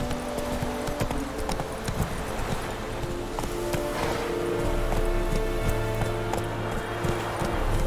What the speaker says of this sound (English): Whoa there, Roach. Come on now